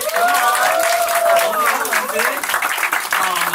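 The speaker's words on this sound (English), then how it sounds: "Clap if you loved it." Studio audience at a talk show clapping and cheering, a steady dense wash of applause with crowd voices and whoops mixed in throughout.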